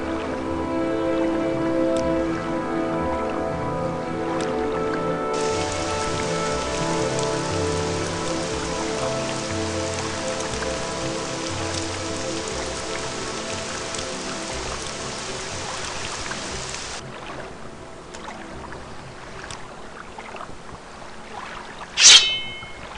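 Steady rain in the video game Morrowind patters on a surface throughout, a constant hiss with soft background tones, then a brief bright chime near the end.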